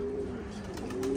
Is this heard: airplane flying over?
no